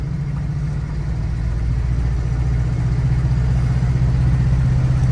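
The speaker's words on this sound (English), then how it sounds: "The exhaust sound" Original 1969 Chevrolet K5 Blazer CST with a 350 V8 and 44k miles, driving along: a steady, moderate low exhaust rumble with a mild mechanical clatter, close and continuous throughout, with no talking.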